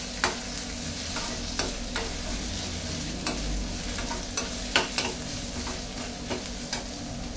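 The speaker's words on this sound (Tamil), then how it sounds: "இப்போ பச்சை மிளகாய் போட்டு அதையும் நல்லா வதக்கணும்." Green chillies sauté in a pan with ginger and garlic, giving a steady low sizzle under repeated sharp scrapes and clicks of a spoon stirring against the metal.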